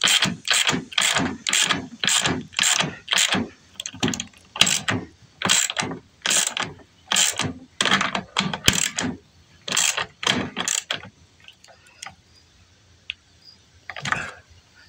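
A ratchet wrench tightens the steering wheel bolt on a riding mower, with quick bursts of close metallic clicking repeated in a steady rhythm, then slowing to a few scattered clicks at the end.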